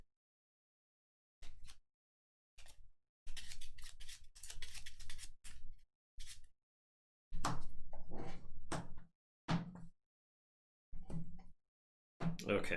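Keyforge cards being shuffled during a tournament game: repeated bursts of riffling and snapping, close and crisp, separated by short pauses, with no talk over them.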